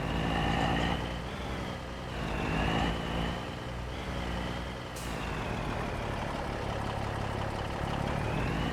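A truck in Farming Simulator 25 rolls across a weigh scale with a steady, droning engine hum that swells and eases slightly, plus a brief hiss midway and no talking.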